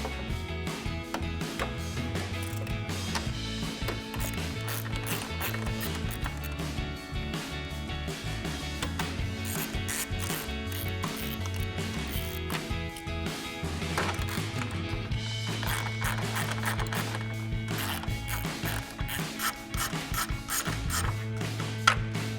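A ratchet with a 10mm socket backs out headlight bolts on a 2018-2020 Ford F-150, giving rapid, steady clicking and mechanical ratcheting, close and continuous through the whole stretch with no talk.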